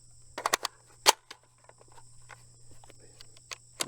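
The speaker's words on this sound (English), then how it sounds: "When you got your empty magazine, get a new full one, throw it in, and there you go" Sharp metallic clicks and clacks of a magazine being swapped during a reload of a Desert Tech MDR-X bullpup rifle in 6.5 Creedmoor, a quick cluster of close hits followed by scattered lighter handling taps.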